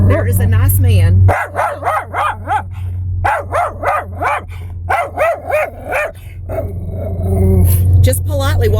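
A dog barks repeatedly at a passing walker, a run of sharp close barks and yips in quick bursts, mixed with steady engine hum and a voice talking over parts of it.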